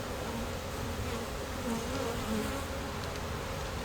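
Honeybees buzz densely at an open beehive, a steady close-up swarm hum that is thick and unbroken, with no voices.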